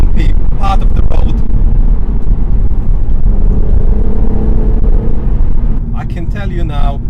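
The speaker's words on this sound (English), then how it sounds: "This is very bumpy part of the road." BMW M135i lowered on Eibach springs rolling over a bumpy road, a steady, loud low rumble of tyres and suspension throughout, with someone talking over it at the start and near the end.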